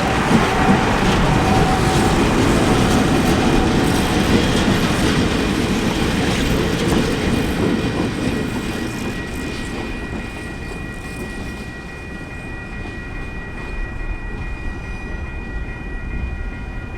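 Two DXR and DXC class diesel locomotives, 8022 and 5287, haul a train past with a steady loud rumble and rolling wheel noise, easing slightly toward the end, with no voices.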